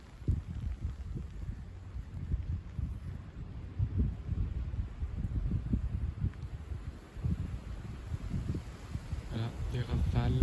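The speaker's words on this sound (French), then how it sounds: "Voilà, les rafales." Strong gusts of wind roar and buffet the microphone outdoors during blustery March shower weather, with hail having fallen minutes before; a continuous low rumble swells and eases over ten seconds.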